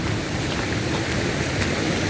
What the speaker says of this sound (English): Kasi may naririnig tayong waterfalls.